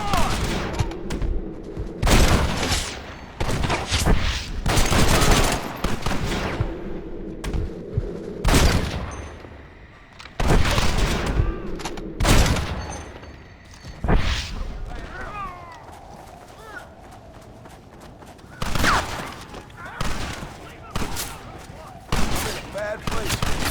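Rapid gunfire bursts repeatedly in a battle, loud cracking volleys and booming shots stacked in dense clusters with brief lulls between them, over a continuous rumbling background.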